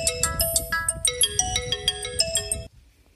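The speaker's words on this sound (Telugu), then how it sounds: "అన్న ఫోన్ వచ్చిందనా?" A mobile phone ringtone in a Telugu short film plays a bright, beeping electronic melody of quick repeated notes for nearly three seconds, then cuts off into near silence.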